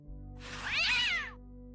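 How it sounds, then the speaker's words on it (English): A cat in the video game Day of the Tentacle gives one clear, drawn-out meow that rises and falls, heard alone over a quiet low hum. "What a pretty pussycat."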